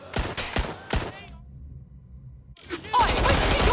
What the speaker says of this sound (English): there's gunfire!